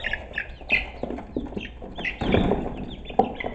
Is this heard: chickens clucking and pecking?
yes